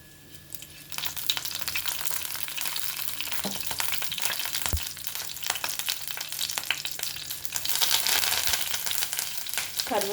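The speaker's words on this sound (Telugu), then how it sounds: "మన వెజిటబుల్స్ అన్నీ వేగించుకుందాము." Vegetables, a bay leaf and shahjeera sizzle in two spoons of hot oil in a pan: a steady, close frying hiss that swells louder near the end, with occasional stirring scrapes.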